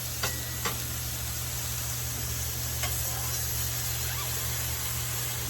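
Mushrooms, with onions and peppers, sizzle on a hot Masterbuilt Gravity Series 800 griddle for Philly cheesesteaks, a steady close frying hiss with a few sharp spatula scrapes and taps, no talking.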